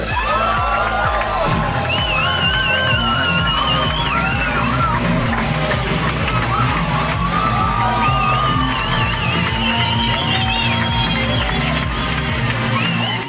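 Comedy night audience at a Quebec humour show cheers, yells and whoops loudly and continuously, a packed, rowdy roar of many voices sustained throughout.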